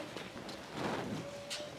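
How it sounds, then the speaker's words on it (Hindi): Steady rain falls outdoors as an even, hissing wash of drops, moderately quiet and continuous with no talking. "पूनम इसी बरसात में जाओगे"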